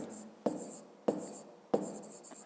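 Pen strokes writing a multiplication by hand for a grade 5 maths exercise converting metres to centimetres, three sharp tap-and-scratch bursts spaced about half a second apart, close and fairly quiet.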